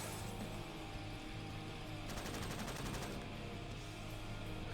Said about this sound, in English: A machine gun, I didn't see that.